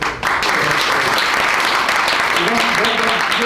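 An audience at a disability justice event breaks into loud, sustained applause, a thick wash of clapping close by that runs throughout, with voices mixed in.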